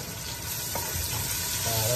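Ginger sizzling and frying in a pan, a dense, steady crackle up close with faint stirring knocks, brief and without speech.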